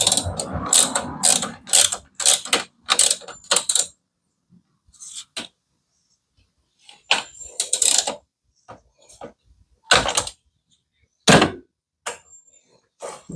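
A ratchet wrench from a ratchet wrench set clicks in rapid bursts of close, sharp ratcheting, stopping and starting with short quiet gaps and a few isolated clicks.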